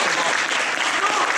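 Convention crowd at a dubbing-actors panel claps in a dense, loud burst of applause, steady throughout with voices mixed in.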